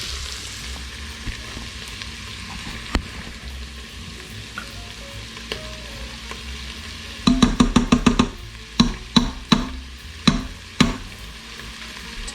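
Two tablespoons of tomato paste sizzle softly in an Instant Pot, with a steady low frying hiss. Then a spoon clinks and scrapes against the pot in quick bursts of stirring, close and alone without talking.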